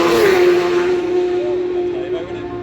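A Superstock racing motorcycle flies past on Glen Country Road during Isle of Man TT practice. A loud engine note drops in pitch as it passes, then settles into a steady drone that fades slowly as the bike pulls away.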